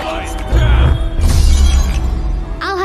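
A magic gem falls and shatters into five pieces in an animated fantasy film, a sharp crash and scatter of breaking fragments over music and film effects, ending with a brief rising shimmer.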